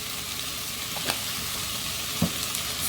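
Chicken seasoned with garlic powder and onion powder sizzles steadily in a hot pan, with a couple of brief scrapes and taps from stirring, close and continuous without talk.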